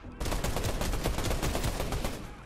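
Rapid automatic gunfire in Fortnite, a steady stream of sharp, evenly spaced shots that starts abruptly and runs loud and unbroken for over two seconds, with no voices over it.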